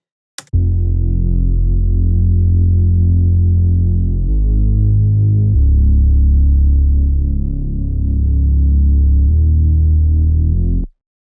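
Two deep, sustained bass lines from a UK rap beat play together in a steady low drone, shifting pitch a few times, loud and up close with no voices.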